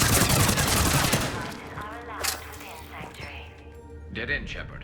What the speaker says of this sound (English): Like a machine pistol